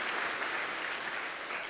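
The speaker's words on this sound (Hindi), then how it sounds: "ताली बजाओ इसके लिए।" Schoolchildren at Vande Mataram School in Pali break into brief, steady applause, a continuous wash of many hands clapping at moderate volume with no other sound.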